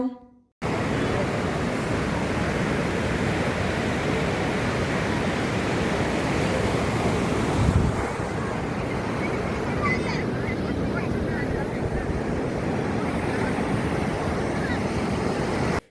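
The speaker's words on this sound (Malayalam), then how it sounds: "ഇനി നമുക്ക് കടലിൻ്റെ യഥാർത്ഥമായ ശബ്ദമൊന്ന് ആസ്വദിച്ചാലോ?" Sea surf rolling in steadily at Kovalam Beach, a loud continuous wash of breaking waves with wind noise on the microphone, lasting throughout without pause.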